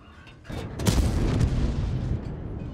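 A tank cannon fires in World of Tanks, one heavy boom that rings out into a long rumbling tail, loud and close, with no voices.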